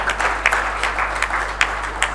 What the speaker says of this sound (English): Please let us give him another round of applause.